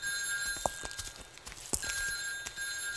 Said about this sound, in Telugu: ఏమండి ఫోన్ తీసి మాట్లాడు.